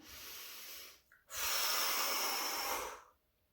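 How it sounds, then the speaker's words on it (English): A child in a kids' yoga breathing exercise breathes audibly and close, first a long exhale, then a brief pause, then a strong drawn-out inhale lasting almost two seconds before it falls quiet. "So breathe in."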